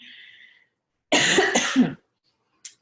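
A single hard, harsh cough breaks into two close bursts after a faint hum, then silence and a tiny click.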